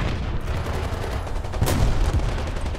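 Gunfire in the War Thunder tank game, including a Swedish CV 90105, comes as repeated loud shots and booms with a rumbling low end, one blast standing out near the middle, with no talking.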